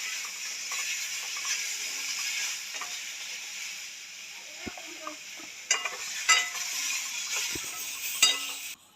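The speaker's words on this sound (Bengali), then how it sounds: "পটলে হলুদ দিয়ে দিল আর ভাজা হবে পটলটা" Pointed gourd pieces dusted with turmeric fry in hot oil, a soft continuous sizzle with occasional stirring scrapes and utensil clinks, fairly quiet throughout.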